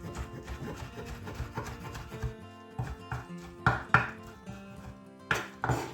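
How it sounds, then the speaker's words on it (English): Cooked spinach is chopped with a knife on a board, giving irregular close thuds and scraping strokes, a few sharper chops standing out, alone without voices. "I'm just going to chop this up a little bit."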